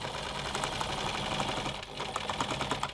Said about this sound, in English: About to sew over the strap the other end.